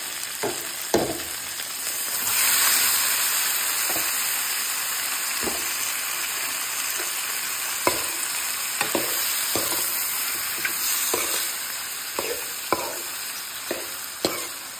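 Squid sizzles in a hot pan with oyster sauce and soy sauce, a steady loud frying hiss broken by repeated scraping stirs from a utensil, close and without voices.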